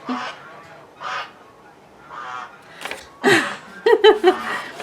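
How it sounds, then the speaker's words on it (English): Several honks from geese, the first ones spaced out and softer, then a louder cluster of overlapping calls at the end. "now there's geese passing by"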